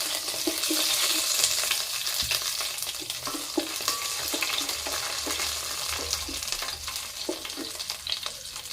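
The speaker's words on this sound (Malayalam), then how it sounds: "വെളുത്തുള്ളി ഇട്ട് കൊടുക്കുക വെളുത്തുള്ളി നമ്മൾ കാന്താരി മുളകും ഉണ്ടല്ലോ ഇതിലേക്കിട്ട് മിക്സ് ചെയ്ത് കൊടുക്കുക വഴറ്റിയെടുക്കുക" Garlic, dried chillies and curry leaves sauté in oil for a papaya and date pickle, giving a close, crackling sizzle broken by repeated spoon-stirring taps and scrapes, with no voices.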